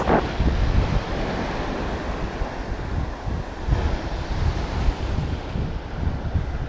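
Sea waves and wind out on the open sea, heard from a boat: a loud, steady wash of surf with gusting wind buffeting the microphone throughout, with no voices.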